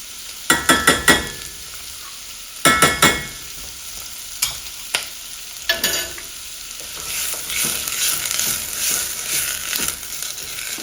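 Diced mirepoix and tomato paste sizzle in a hot pan for a bisque, with several sharp scraping stirs early on, then a steady close frying hiss.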